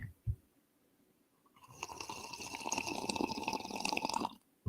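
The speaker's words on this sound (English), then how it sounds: "Another noisy slurp real quick." A noisy slurp of coffee drawn in for a few seconds, a steady sucking gurgle close to the mic, preceded by a brief knock and silence.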